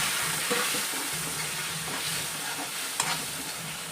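Drumstick pods being sautéed with spices in a pan give a steady, fairly quiet sizzle with occasional scraping stirs and one brief metallic clink near the end.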